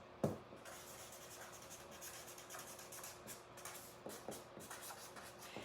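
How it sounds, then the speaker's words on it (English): A pen writes an address by hand on paper, a faint, continuous close scratching with a few sharper strokes, alone in a quiet room. "let me write that down"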